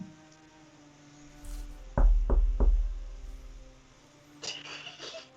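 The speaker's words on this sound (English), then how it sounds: "You all arise to the sound of a knock to the door." Three sharp knocks on a door in quick, evenly spaced succession, loud and close against quiet background hum, followed by a brief rustling sound afterward.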